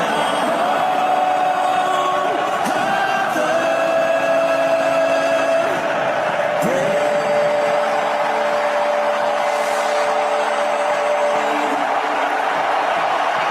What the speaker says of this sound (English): the crowd was all noisy, and it just went.